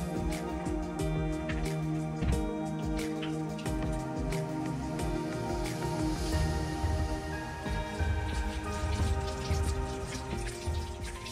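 Water runs from a kitchen tap while hands are washed before cooking, a steady close splashing and pattering that continues evenly throughout, with no talking.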